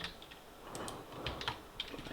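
Keys on a computer keyboard are tapped in a quick, uneven patter of soft clicks, close but quiet, with no voices.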